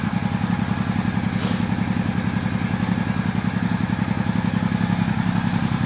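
A motorcycle engine runs with the choke on, giving a steady, rapid, throbbing low-pitched idle close by that holds even throughout with no talk.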